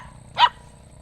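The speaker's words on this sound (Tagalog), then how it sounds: "Pasensya na kayo guys na narinig niyo yung alaga ko na aso guys." A pet dog gives one short, sharp bark at a moderate distance over quiet background noise.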